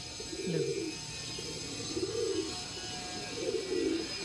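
Red Khaira pigeons coo nearby in soft, throaty bursts, about four rounded calls spaced across the moment over a quiet background hiss.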